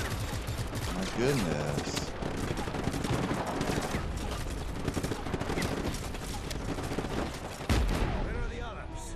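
Continuous fusillade in Just Cause 3 on PS4, loud overlapping machine-gun and rifle fire with sharp cracks and a heavy thump near the end, while someone speaks briefly over the din.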